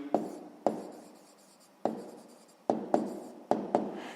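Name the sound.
writing numbers in a maths exercise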